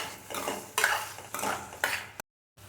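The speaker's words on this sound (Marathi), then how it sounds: "बटाटे सगळं एकजीव करून घेणार आहोत" Potatoes are stirred and mixed in a pot of bombil rassa, with four scraping, clinking spoon strokes close by over a light sizzle, followed by a sudden silence near the end.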